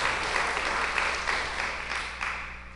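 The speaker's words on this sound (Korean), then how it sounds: "하나님께 영광의 박수 드리겠습니다" Applause from a church congregation during a Korean-language sermon: a dense, steady wash of many hands clapping at once, fairly loud and close, with no talking over it.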